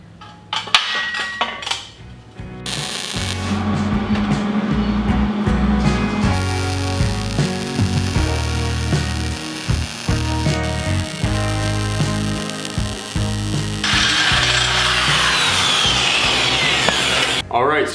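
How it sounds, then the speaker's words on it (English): Power drilling through metal for a tubing bender fills the shop, dense continuous grinding and whining with clanking metal tool noise throughout and a harsher, brighter stretch near the end. "we're done drilling all the holes"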